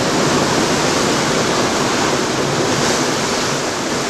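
Ocean waves breaking against a cruise ship in Alaskan waters, a steady, loud rushing wash of water and wind filling the whole stretch without letup.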